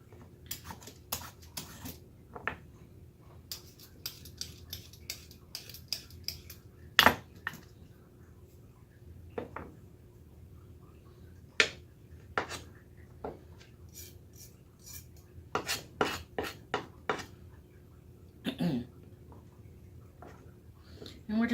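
A vegetable peeler scrapes carrots in short, irregular clicking strokes with small knocks, close and fairly quiet, while a person talks intermittently.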